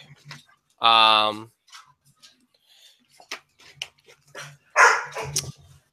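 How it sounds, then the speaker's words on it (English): A dog barks in a loud, close burst of several sharp yaps, then a couple more barks near the end, with someone speaking in between. "as my dog likes to bark"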